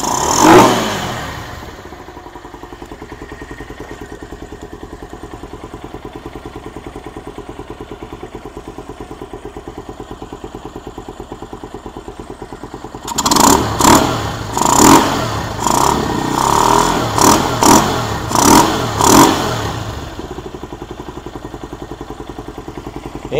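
A Venom SS3 KP mini 150 motorcycle fitted with a new Nibbi 26mm carburetor idles low and steady while still cold, then revs sharply in a run of quick, loud throttle blips before settling back to idle.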